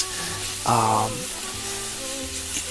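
Beef rice noodles, ho fun, being stirred in a hot pan, a continuous sizzle with a brief louder scrape or clatter near the start, under background music.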